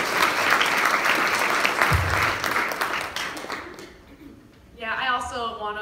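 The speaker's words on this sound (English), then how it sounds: "Let's give her another round of applause," An audience applauds a young speaker's testimony with sustained, even clapping for about four seconds before it dies away and a voice begins speaking.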